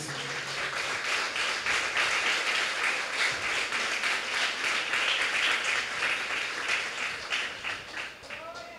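A church congregation applauds during a Portuguese-language sermon, a dense sustained wash of many hands clapping for about nine seconds, with voices mixed in, before tapering off at the end.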